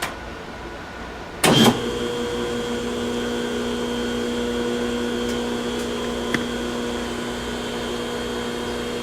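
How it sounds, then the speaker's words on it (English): An American Rotary ADX phase converter switches on with a sudden loud surge and then settles into a steady electrical hum and whine, running on evenly with a faint click partway through. "We'll go ahead and plug in our phase converter."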